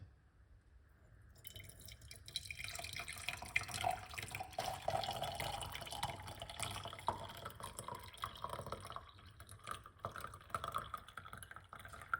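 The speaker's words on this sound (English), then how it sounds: "We're going to pour it into this bottle." Liquid pours steadily into a container after a brief quiet start, a continuous splashing trickle that keeps going to the end.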